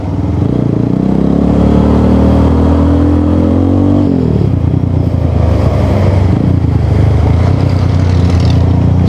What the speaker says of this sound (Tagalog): mapapagkumpara mo yung tunog ng tambucho pag stock ang carb at sa 30mm